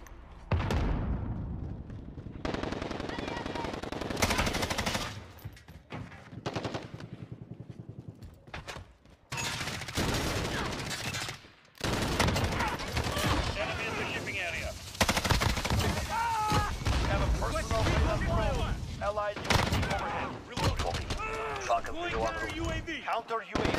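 Bruen Mk9 light machine gun in Call of Duty Mobile firing long, loud automatic bursts, separated by brief pauses, with speech-like game voices appearing among the shots.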